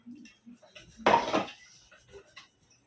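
Raisins tipped into mawa kheer roasting in a pan, a short clattering scrape of a utensil against metal in the middle, set among scattered light kitchen clinks and quiet speech before and after.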